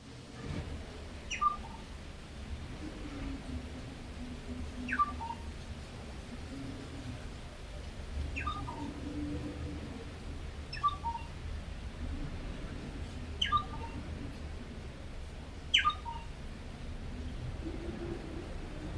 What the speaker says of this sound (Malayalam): ഈ ചെറിയ പക്ഷി 2 തരത്തിലുള്ള ശബ്ദം ഉണ്ടാക്കുന്നത് നിങ്ങൾ ശ്രദ്ധിച്ചിട്ടുണ്ടോ?